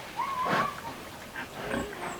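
A sow with newborn piglets in a farm pen, giving a few soft grunts and brief squeals at close range over a quiet background.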